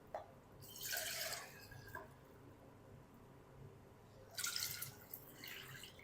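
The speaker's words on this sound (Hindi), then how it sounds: "तो मैं 3 डब्बे ये पानी शामिल करूँगा।" Water is poured into a cooking pot while making fried chicken pulao with rice: two separate splashing pours, the first longer, then a pause and a second pour, close and moderately loud with no talking.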